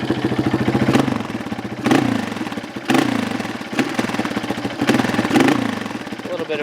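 A 2003 Honda CRF230 dirt bike engine, running with a jetting problem, revs repeatedly from a loud, close, rough idle, with short throttle blips that rise and fall over steady mechanical clatter.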